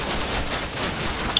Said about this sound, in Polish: Oni nas strzelają, ale no nie trafią.